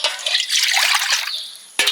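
Hot water pours into a vessel in a village kitchen, a bright splashing trickle that fades, then a short final splash close by.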